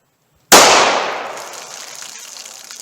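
A single loud, sharp gunshot from a .32 H&R Magnum Federal 85 grain XTP cartridge, firing into a bologna pack target outdoors, a close crack followed by a long decaying echo.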